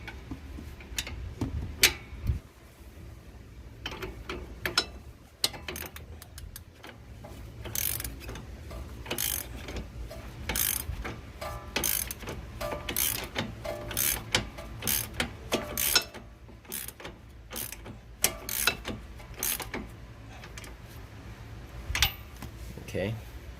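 A hand ratchet clicks in quick bursts as it turns a bolt on a Nissan Maxima front strut, close and fairly quiet, with pauses between strokes and a voice talking at times.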